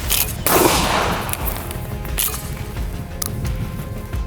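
A single loud gunshot fired through two stacked wooden boards, each about 2.5 cm thick, gives a sharp crack followed by a decaying rumble and low background noise. No one speaks.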